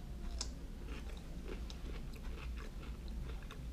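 Close, quiet wet crunching and chewing of a Sno Co sour green apple pickle, with soft irregular bites over a few seconds and no talking.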